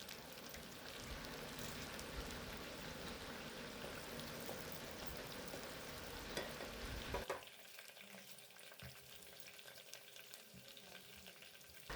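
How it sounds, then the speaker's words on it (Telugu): Finely chopped onions and curry leaves fry in a pan for a Nellore-style fish curry, giving a steady, dense sizzle that drops to a quieter, thinner crackle partway through. "ఆనియన్స్ని వేసుకోవాలి. కరివేపాకు వేసుకొని బాగా ఫ్రై చేయాలి."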